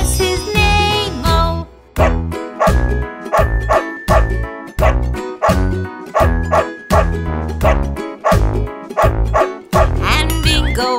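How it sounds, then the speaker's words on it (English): Dog barking sound effects woven into a children's farm song about a farmer's dog, repeated yips and bow-wows landing rhythmically on the beat amid loud bright music with sung vocals. "There was a farmer who had a dog, and Bingo was his name-o"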